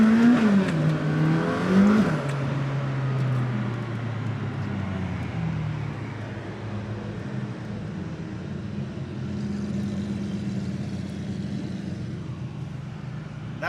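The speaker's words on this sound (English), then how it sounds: "That Aventador is incredibly loud." Lamborghini Aventador hypercar with a V12 engine revving loudly while driving along a Mediterranean road in Croatia during a supercar gathering, a rising and falling roar close by that settles into a steady, sustained engine drone with traffic around it.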